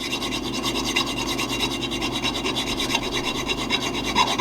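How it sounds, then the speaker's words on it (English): A hand file rasps rhythmically against a wooden stair part cut on a Wood-Mizer LX150 sawmill, close, steady back-and-forth strokes with no talking. "I'm just filing my new set of stairs"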